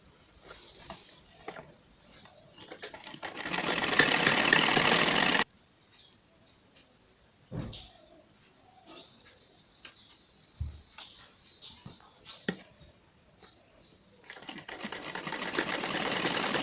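A sewing machine stitches a salwar in two loud steady runs of rapid whirring at the start and end, with quiet handling clicks and fabric shuffling between.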